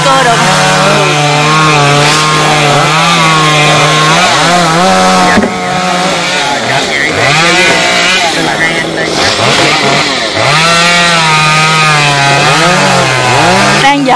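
A chainsaw saws through Khaya tree branches above power lines, loud and close, its engine pitch swooping up and down with repeated revs and brief dips across the cut.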